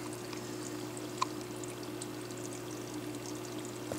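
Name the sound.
CO2 bubbles going into aquarium bubble counter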